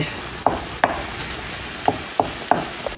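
Food sizzles steadily in a pan with a constant frying hiss, broken by six sharp clicks or taps of a utensil at irregular intervals, heard close with no talking.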